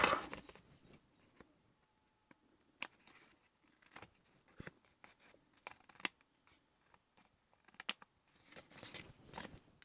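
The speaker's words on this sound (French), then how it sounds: "On va venir les couper. J'ai mis où mon petit ciseau?" Small scissors snipping at close range, a quiet series of short crisp cuts in an uneven rhythm, with soft handling rustles between them.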